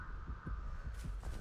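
The Nurse's terror radius in Dead by Daylight sounds as a deep, rhythmic heartbeat, several heavy thumps in a steady pulse over a low hum, with no talking.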